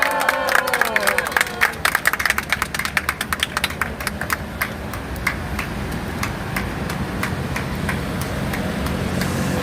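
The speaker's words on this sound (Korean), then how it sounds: "황교안 대표님 나오실 때 큰 박수로 맞이해 주십시오" A large crowd claps warmly to welcome Hwang Kyo-ahn, party leader, onto the stage at a church-persecution protest declaration. The applause starts dense and loud with cheering voices, then settles into steady sustained clapping throughout.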